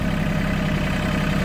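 A tractor engine idles steadily while the machine sits stuck in mud, a continuous low rumble close by with no talk over it.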